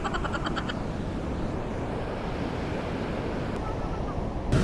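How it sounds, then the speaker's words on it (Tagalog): Strong ocean surf at La Union crashes and roars continuously up close, with wind buffeting the microphone and a louder gust at the very end. "Sobrang lakas ng alon"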